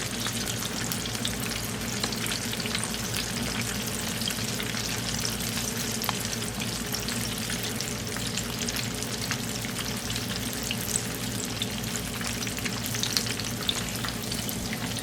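Chicken drumsticks and two cheese balls fry in hot oil, a dense, steady crackling sizzle with scattered pops, heard close and alone throughout.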